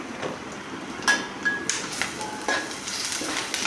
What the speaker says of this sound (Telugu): ఉల్లిపాయలు వేగాక కొంచెం అల్లం వెల్లుల్లిపాయ పేస్ట్ వేసి పచ్చివాసన పోయేదాకా ఫ్రై చేసుకోవాలి